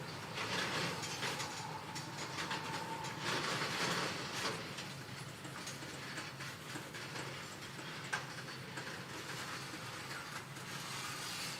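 Steady rumble and clatter of train cars rolling along track in Train Simulator 2021, a continuous mid-level wash of wheel noise with faint rhythmic clicks and one sharp knock near the end.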